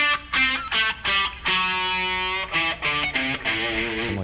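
Overdriven electric guitar runs a pentatonic scale with an added Dorian note in rock style, a quick series of picked notes, then a long sustained bend, then more rapid notes, played close and alone.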